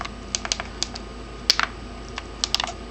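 Quick bursts of key clicks from a small AZERTY keyboard on an MSN Messenger accessory kit, typed with two fingers in short irregular clusters, close and fairly crisp, with no speech.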